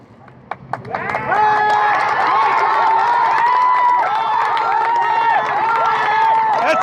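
A large crowd of voices erupts into loud, sustained cheering and shouting after a brief quieter start, continuous and close.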